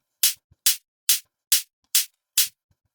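A dry, unprocessed techno kick drum layer is struck six times at an even, quick pace, each hit short and sharp with a clicky attack and a fast decay into silence.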